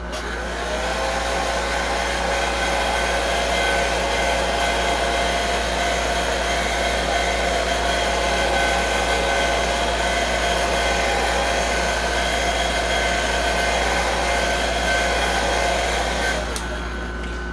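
A hair dryer blows steadily and loudly for the whole stretch, drying paint on a scale model nacelle, its hum even and constant until it cuts off at the very end.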